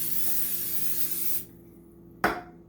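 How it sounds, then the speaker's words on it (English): Cooking spray hisses onto a heated Dash mini pancake maker, a loud continuous spray for over a second that cuts off, followed by a short sharp burst. "So I'm just gonna spray it so that these don't stick"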